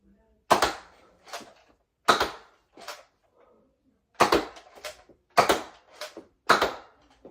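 A Nerf Zombie Strike Hammershot blaster fires Elite darts close by: about five sharp snapping shots, each followed by a lighter mechanical clack, come at a loose, uneven pace.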